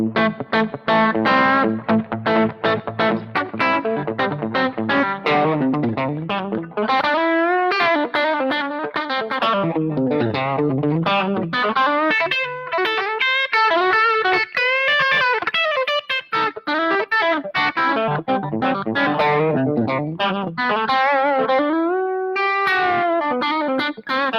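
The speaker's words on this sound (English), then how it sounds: "the next one is the back pickup, but on the coil" Blue Meanie electric guitar played with the back pickup coil-split, giving a thin, bright, slightly twangy tone through effects with distortion and chorus, as continuous loud chords and riffs with no talking.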